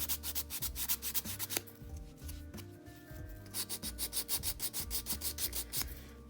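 A nail file rubs back and forth while smoothing a craft piece for an angel butterfly desktop note holder, making quick rhythmic scratchy strokes up close, with a brief pause before the sanding resumes.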